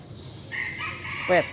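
A rooster crows once near the end, loud and close, over a faint steady background hum.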